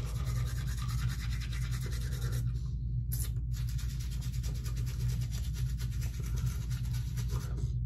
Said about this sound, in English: I'm brushing my teeth.